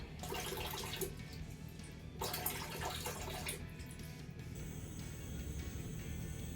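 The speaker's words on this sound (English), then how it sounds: "Sugar and water into a small pan and bring to a boil" Quiet splashing of water poured into a small pan in two short bursts, with a steady low hum in the background.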